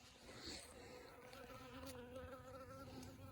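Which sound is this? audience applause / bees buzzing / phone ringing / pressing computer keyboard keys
bees buzzing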